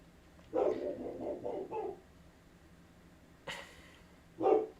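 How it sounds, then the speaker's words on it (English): A newer pet dog barks indoors in a short burst of several quick barks, followed after a pause by one or two more isolated barks, moderately loud and close, with no talk over it. "I don't know if you guys can hear the dogs barking."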